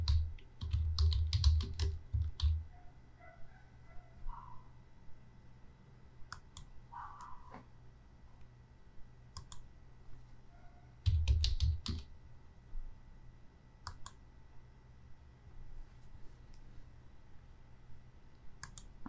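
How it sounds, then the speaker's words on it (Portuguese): Keystrokes on a computer keyboard while entering a public notice into a court filing system, coming as scattered clicks and short bursts of typing, fairly close and quiet, with a louder cluster near the start and another near the middle. "digitando aqui ciência pública."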